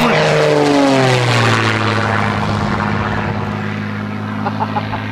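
A Red Bull propeller aircraft makes a low pass, its loud engine drone sweeping down in pitch as it passes close and then fades away.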